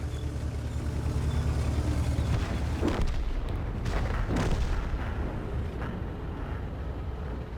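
Tank cannon shots in the World of Tanks video game, a heavy booming rumble of artillery-like fire with a couple of sharper blasts standing out over a constant low roar.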